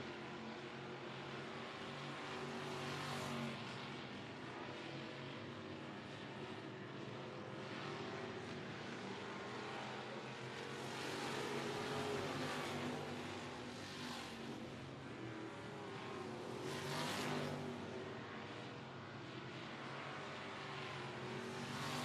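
Race cars roar around a speedway oval during a regular race program, with a steady, loud engine drone that swells and fades as cars pass, continuous for the whole stretch.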